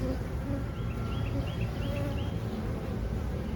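Honey bees drone in a steady, dense buzz from an opened hive that has laying workers and emerged queen cells, loud and close throughout with no talking.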